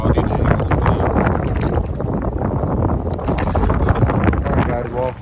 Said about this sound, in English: Obviously it's very windy, 25-mile-an-hour wind gusts.